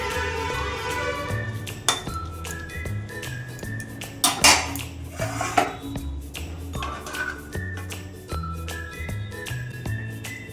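A lid goes onto a cooking pot of onion and soybean curry, with pots and pans clattering in a home kitchen: metallic clanks and scrapes ring out against steady tonal sizzling or humming, loud and close, with no talk.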